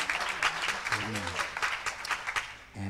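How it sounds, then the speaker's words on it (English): A congregation in a church service claps for the musicians, dense applause whose pulses rise and fall, with a voice speaking over the middle before the clapping tapers off at the end. "Would you give these wonderful musicians a hand clap of praise?"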